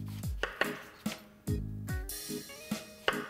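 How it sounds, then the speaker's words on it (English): A knife slices a large sweet Vidalia onion into thin pieces on a cutting board, giving about eight crisp, close chops in an uneven rhythm, each with a short thud, with no talking. "The next item that we're gonna cut up is a large Vidalia or a sweet type of onion."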